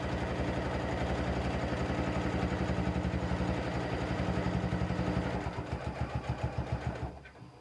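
A sewing machine fitted with a quilt binder attachment runs at a steady, close motor whir while stitching quilt binding, then slows into distinct separate stitch thumps before stopping.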